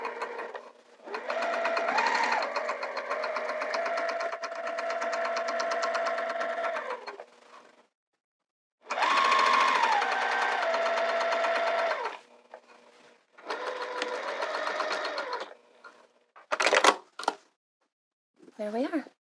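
A sewing machine stitching a skirt whirs in several sustained runs of varying length with brief pauses between them, close and steady, with a few short bursts near the end.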